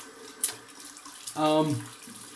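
Water runs from a tap into a sink while wetting the face before a wet shave: a soft, steady splash near the mic that swells briefly, with a faint click before it.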